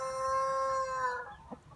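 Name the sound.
rooster crowing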